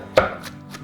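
Salad is chopped in a wooden chopping bowl, giving one sharp close knock followed by two fainter chops.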